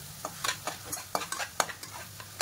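Vegetables and chutney are stirred in a frying pan, giving a quick irregular series of scraping spoon strokes over a low, steady sizzle, close and fairly quiet.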